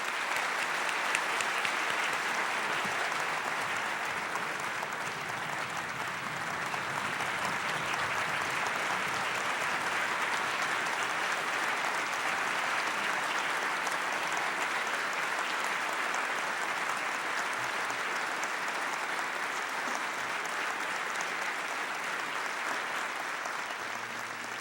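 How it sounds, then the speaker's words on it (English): A large audience at a philanthropy medal ceremony gives sustained applause, an even, dense wash of clapping that holds steady for about twenty-five seconds at moderate volume. "And a final round of applause to these generous and very wise people."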